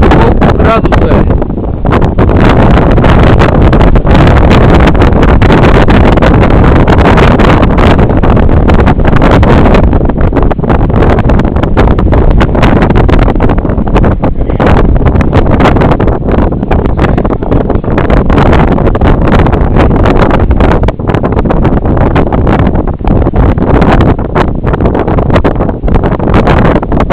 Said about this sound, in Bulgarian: Силен вятър